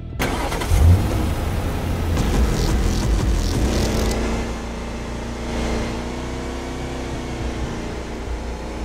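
A car engine starts and drives off in a Roblox zombie game, a continuous loud engine rumble that swells as it revs and accelerates, then settles into a steady drone.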